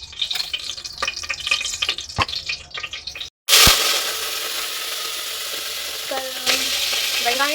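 Onion and garlic hit a hot pan of oil in a home kitchen and sizzle loudly and continuously after a brief clatter of cooking and stirring.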